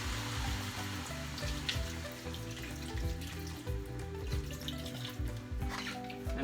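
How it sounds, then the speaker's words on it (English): Water is poured into a pan of browned meat, a continuous close gush and splash over a low sizzle-like rumble. "And then we can add the water now."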